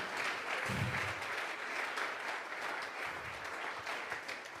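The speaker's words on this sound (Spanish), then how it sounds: "Vamos a regalarle ofrenda de palmas al Dios de la gloria." Applause from a church congregation at a Tuesday Bible study service, steady clapping filling the whole stretch, fairly close and dense, with no speech over it.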